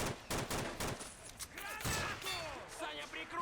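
Rapid sniper and rifle gunfire in the Men of War Assault Squad battle game, with sharp, close shots and crackling volleys mixed with whizzing sounds and a voice talking.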